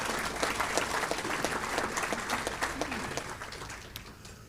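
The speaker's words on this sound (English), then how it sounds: "So give Ron a big round of applause." An audience at a participants' meeting for an Alzheimer's center claps in a moderate round of applause that gradually thins and fades toward the end.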